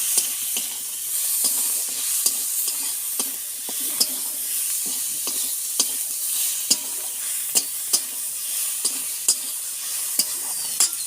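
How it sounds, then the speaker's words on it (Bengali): Duck egg frying in a pan of hot oil, a steady bright sizzle broken by sharp regular spatters and pops, close up with no voices. "ডিমটাও ভেজে নিই।"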